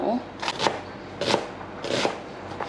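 A knife dices an onion on a cutting board in a few quick, uneven strikes, close and crisp, with a voice talking softly in the background.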